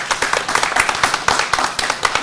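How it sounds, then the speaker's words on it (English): Applause from the audience at a town legislative meeting, a crowd clapping steadily with dense, overlapping hand claps at moderate loudness for a couple of seconds. "please hold your applause"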